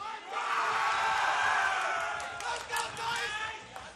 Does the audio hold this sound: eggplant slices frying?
no